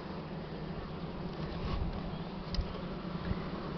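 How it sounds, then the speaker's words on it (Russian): Honeybees working inside a hive, a steady, dense buzzing drone that stays close and continuous throughout with no voices. "они в улье все равно занимаются работой пчелы"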